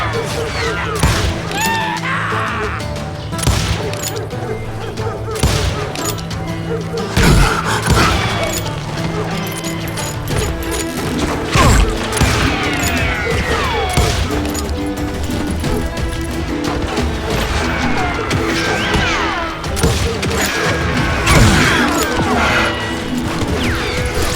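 Revolver and rifle gunfire in the Wild West shooter Call of Juarez Gunslinger, repeated sharp shots and crashes over a steady game soundtrack, with voices shouting at times.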